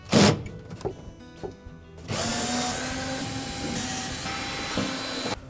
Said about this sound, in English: We next need to remove the screws that secure the evaporator cover on.